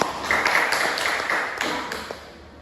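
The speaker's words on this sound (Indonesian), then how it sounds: "Kasih tepuk tangan untuk Setiawan." Classroom applause for a student named Setiawan during a fractions lesson, a brief burst of scattered hand clapping that fades over a couple of seconds, no talk over it.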